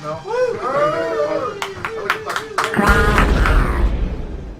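At a live comedy show, a loud host voice introduces the act, then scattered claps come through and build into a broad wash of audience applause under the talking.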